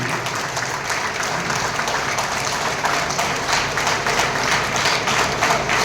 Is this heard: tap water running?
no